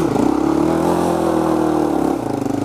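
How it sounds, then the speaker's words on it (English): A Honda 400EX ATV engine revs up while riding, a loud, close, throbbing drone that rises and holds, then drops back near the end, with no talk over it. "First gear, gas, slowly let out the clutch, and we're off."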